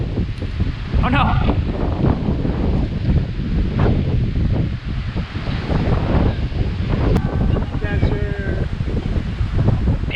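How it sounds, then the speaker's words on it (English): Strong wind blows across open prairie during an extreme wind warning, a continuous loud roar and buffeting on the microphone, with a voice speaking faintly beneath the gusts. "sorry about the wind, but I can't do anything about it."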